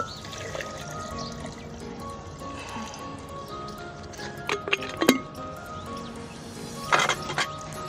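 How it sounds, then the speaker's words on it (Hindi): Water is poured for homemade cucumber juice in a kitchen, a low steady trickle running under the quiet background, broken by a few sharp glass clinks and splashes toward the end. "तीन गिलास कम से कम ना ये पानी"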